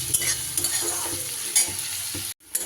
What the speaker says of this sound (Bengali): পেঁয়াজটা এইভাবে একটু লাল লাল করে ভাজা হয়ে গেলে